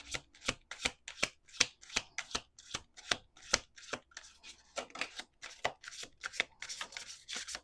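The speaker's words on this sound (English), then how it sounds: "We're going to do one more shuffle." Quick, crisp riffles of playing cards being shuffled close by, a rapid series of sharp flicks repeating in bursts, quiet and steady.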